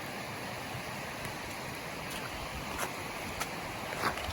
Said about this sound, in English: A lot of water coming onto the trail.